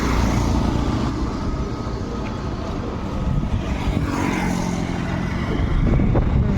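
A vehicle engine runs steadily and loudly close by as it sets off for a temple visit on a travel outing, with a continuous rumble and slight rises in the engine note.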